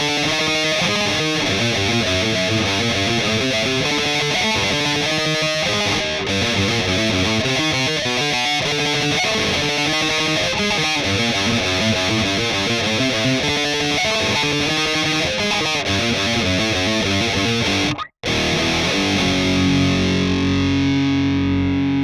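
Multitrack distorted electric guitars play back as a loud, dense wall of overdriven chords and riffs, steady for about twenty seconds with a sudden momentary dropout near the end.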